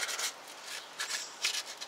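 Short raspy scraping strokes of sandpaper rubbing the hard, bumpy shell of a gourd to remove mold, close up and fairly quiet, coming in a few uneven bursts.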